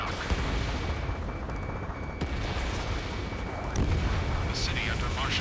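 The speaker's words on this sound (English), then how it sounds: "Gunfire and the roar of jets echoing through the streets." In the video game Ace Combat 7: Skies Unknown, gunfire and jet roar fill a city under martial law, with a dense rumbling wash broken by sharp bursts and booms, while a voice speaks over it.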